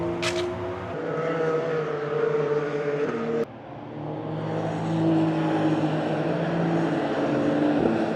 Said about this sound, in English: There's Porsche cars on track at the moment as part of the Porsche experience that the museum offers.